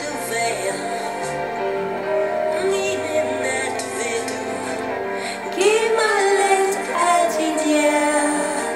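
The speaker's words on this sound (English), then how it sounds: "because this is a Danish Christmas song." A gentle, quiet Danish Christmas song with soft sustained instrumental chords and a melodic line, calm and sensitive in mood throughout.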